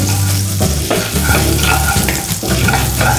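Mustard seeds and curry leaves sizzle and spatter loudly in hot butter and oil in a pan for semiya upma, a dense continuous frying hiss with small crackling bursts, close by and with no voices.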